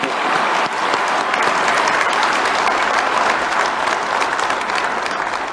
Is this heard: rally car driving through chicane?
no